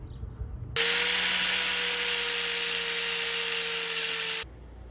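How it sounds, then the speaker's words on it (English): A flap disc on an angle grinder cleans up welds on a DIY tow hook for a C6 Corvette, a loud, steady high whine that starts abruptly, holds for about four seconds and then cuts off. "I'll get a flapper disc and clean this up"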